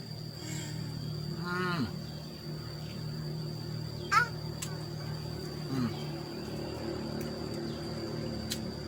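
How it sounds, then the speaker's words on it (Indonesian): Cattle near a rice field give a brief low moo with a rising tone, followed by quieter calls, over a constant outdoor hum of insects and crickets. "Sapi."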